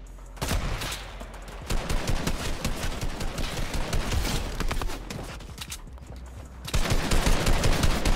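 Rapid bursts of gunfire rattle in the video game Fortnite, loud overlapping automatic shots in sustained volleys with a brief lull before another heavy burst.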